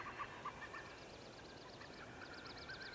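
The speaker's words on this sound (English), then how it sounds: "Is that an albino duck?" An albino duck in the hunting game The Hunter: Call of the Wild, a faint run of rapid, evenly spaced quacks in the distance over a steady outdoor ambience.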